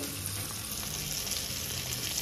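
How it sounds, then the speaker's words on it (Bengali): Fish frying in oil in a pan gives a continuous, close hiss and sizzle that stays steady throughout, with no talk. "মাছটা আমার মোটামুটি ভাজা হয়ে গেছে।"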